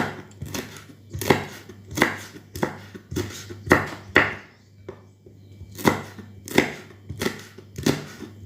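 A knife chops chili peppers on a cutting board in a home kitchen, sharp knocks in quick bursts of two or three with short pauses between, close and clear.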